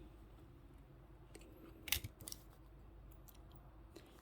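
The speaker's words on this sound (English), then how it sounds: "this long piece at the end you can trim" Craft wire being trimmed during wirework gives a brief pair of sharp snips near the middle, set against a quiet, near-silent room with no talking.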